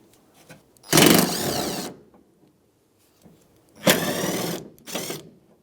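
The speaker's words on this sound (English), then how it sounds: "we have two 10mm bolts we'll need to remove" Two 10mm bolts being removed from the inside of a 2007-2015 Mazda CX-9 door, heard as two separate loud, whirring mechanical bursts of about a second each, separated by a quiet gap.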